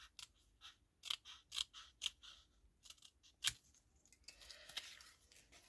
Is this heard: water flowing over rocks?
no